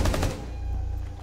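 A rapid burst of automatic gunfire in Rainbow Six Siege rattles loud and close for a fraction of a second, then fades into a low ringing tail.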